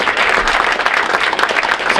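A school sports awards audience applauds a swimmer with steady, dense clapping from many hands, loud and sustained throughout without pauses.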